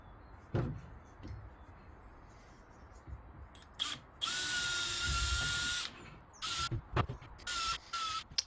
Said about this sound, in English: screw through and sandwich that from the outside to the in, and then drill the bolts through